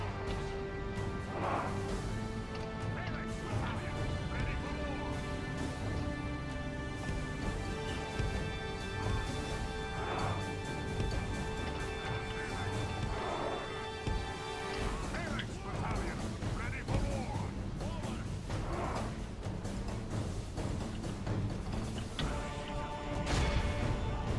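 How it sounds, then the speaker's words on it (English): Siege weapons in the Total War game Third Age: Divide and Conquer pound castle walls, with repeated heavy crashes and impacts over a dense, continuous battle din, while a voice talks over it. "Stop shooting the walls."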